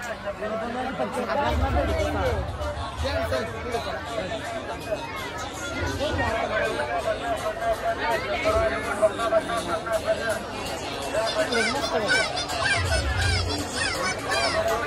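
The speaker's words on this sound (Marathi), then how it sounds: "मित्रांनो लय गर्दी आहे लय" Dense crowd chatter fills a busy village outing at Sajgaon, with many overlapping voices, children among them, forming a steady hubbub throughout.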